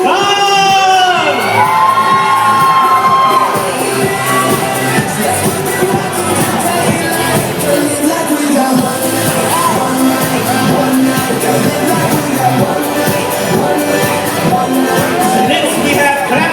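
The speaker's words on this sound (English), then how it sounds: "Round of applause for Tuan Chu Kang!" A pageant crowd cheers, whoops and shouts loudly and continuously for a contestant in a swimwear round, with high-pitched screams and some clapping filling the whole stretch.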